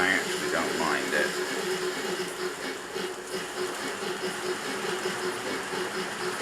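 An N gauge Dapol GWR Hall Class model locomotive's sound card engine hums and whirs with a buzzy, mechanical tone, some brief high chirps early on, steady and close.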